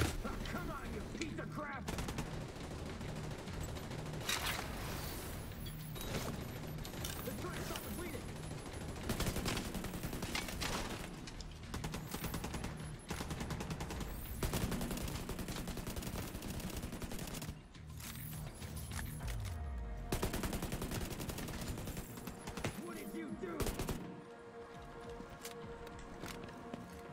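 Gunfire in The Division 2 video game, dense bursts of rapid automatic shots and scattered single cracks over nearly half a minute, with someone talking over the shooting.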